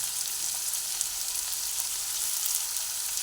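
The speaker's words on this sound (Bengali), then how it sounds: "প্রথমে এর মধ্যে কুচানো আলুগুলো দিয়ে দিচ্ছি আলু কিছুটা ভাজা হবে" Chopped potatoes fry in hot oil in a pan for a drumstick-flower chorchori, a steady, dense sizzle that holds even and close throughout with no talk.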